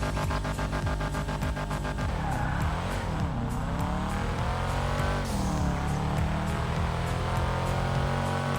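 Two cars in GTA 5 accelerating one after the other, the first with a stock muffler exhaust and the second with a full straight pipe from the engine. Loud, continuous engine roar rises through repeated gear shifts, with tire squeal and no talk.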